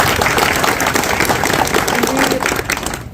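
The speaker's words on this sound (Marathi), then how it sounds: "एकदा सगळ्यांनी जोरात टाळ्या वाजून त्या लोकांचं" A crowd at a civic felicitation for a newly elected MLA, held by the Maharashtra Navnirman Sena, bursts into loud, dense applause that fills the space and fades toward the end, with some voices mixed in.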